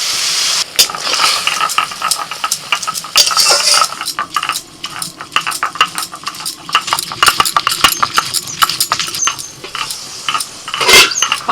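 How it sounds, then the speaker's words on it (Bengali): Greens and potatoes stirred in a pan on a home stove, with a splash of water added: repeated sharp clinks and scrapes of a spatula against metal over a light sizzle, irregular and close, with no voices. "শাক আর আলু একটু নাড়াচাড়া করে অল্প করে জল দিয়ে দিচ্ছি"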